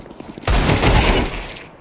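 A single dense burst of video game gunfire lasting about a second, loud and close, tailing off quickly, with no talk over it.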